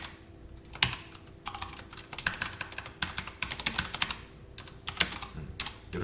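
Steady typing of SQL code on a computer keyboard, with a continuous run of quick key clicks and occasional louder taps, close and fairly quiet, with no talking.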